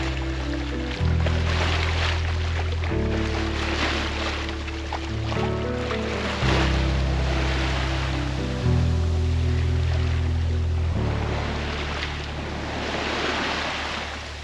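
A sailboat underway on a two-day passage to the Balearics, with a steady wash of waves against the hull and gusting wind noise, loud and continuous from start to finish with a low drone beneath and no talking.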